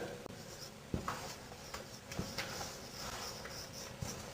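Someone writes on a board, giving faint scratchy strokes and occasional light taps that come in short, irregular bursts in a quiet room.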